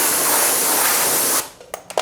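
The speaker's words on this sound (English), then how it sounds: "spray it off with a pressure washer" A pressure washer blasts dirt off wheel-detailing tools such as brushes, giving a loud, steady hiss for over a second before cutting off abruptly, followed by a few faint clicks and drips.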